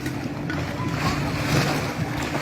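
A speedboat running on a lake at a holiday park gives a steady, unbroken wash of engine drone and water noise, with wind buffeting the microphone throughout.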